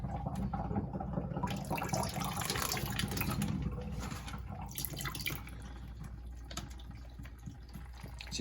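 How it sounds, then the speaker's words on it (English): Fresh water poured into a bag holding a store-bought coconut being set up to sprout, a steady close trickling and splashing stream that carries on throughout and eases off slightly near the end. "I'm actually just going to pour fresh water in there"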